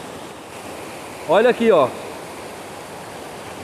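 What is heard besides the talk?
water of the Velho Chico at the Missão Velha dam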